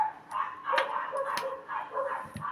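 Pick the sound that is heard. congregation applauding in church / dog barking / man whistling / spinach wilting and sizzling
dog barking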